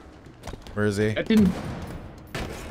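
Gunfire in the Halo Infinite video game during a ranked multiplayer match, a short burst of rapid shots mixed with a voice talking over it.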